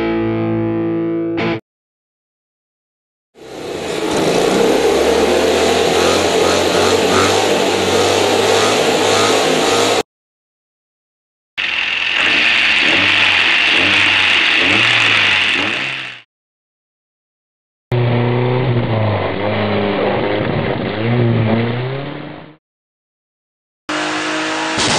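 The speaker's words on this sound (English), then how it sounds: "this 1970 Camaro Z28, has been around the block a few times." A 1970 Camaro Z28 V8 running and revving in three loud separate bursts, each a sustained roar with rising and falling pitch, split by short silent gaps.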